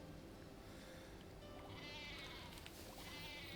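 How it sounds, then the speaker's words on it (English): Sheep-like farm animals in the video game Harvestella bleat faintly over a soft, steady game background, with no talking. "these are the game's equivalent of cows or slash sheep."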